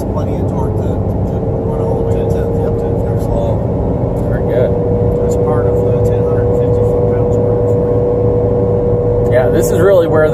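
A 2020 Ford F450 pickup tows a 30,000 lb trailer uphill, its engine droning loud and steady inside the cab with a held tone, while people talk throughout.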